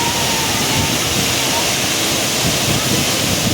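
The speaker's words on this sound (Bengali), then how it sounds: "বনজাকরি ওয়াটারফল। আপাস কি জলের আওয়াজ" Ban Jhakri waterfall roaring in misty surroundings, a dense, steady rush of falling water filling the whole span at close range with no break.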